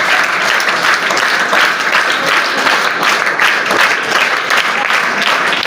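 A hall of school students applauding their teachers, a dense, steady burst of many hands clapping at once, loud and close, sustained throughout without pause.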